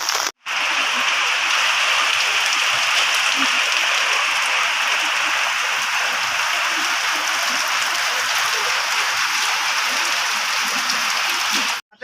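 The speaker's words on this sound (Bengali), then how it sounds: "বৃষ্টি হয়েই যাচ্ছে" Heavy rain pours down steadily in a dense, hissing roar that barely varies, cut off briefly near the start and end.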